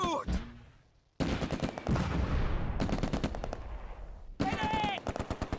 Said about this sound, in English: recon team is firing at a Fallschirmjäger reserve squad to their immediate front